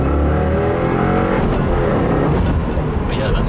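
A 2015 Subaru WRX tuned on E85 fuel, floored at full throttle in first gear: a loud, continuous engine roar rising in pitch as it accelerates hard, heard close from inside the car.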